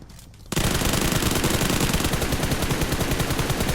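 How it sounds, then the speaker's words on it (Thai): Rapid automatic gunfire in the mobile battle-royale game PUBG Mobile, a loud, dense burst that starts abruptly after a brief quiet moment and continues steadily to the end, close by. "มีเสียงปืนอยู่ใกล้ๆนะครับ"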